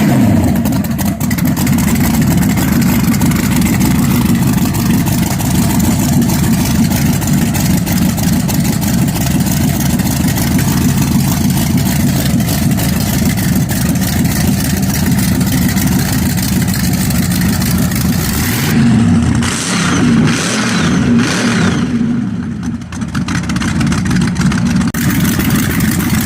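A blown Pontiac engine in an open quilt dragster idles with a loud, lumpy, continuous rumble, then is revved in several quick bursts near the end.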